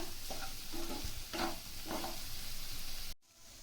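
Soya chunks fry being stirred in a pan after garam masala is added, a steady sizzle with a few scraping strokes of the spoon, close up, ending in a brief pause.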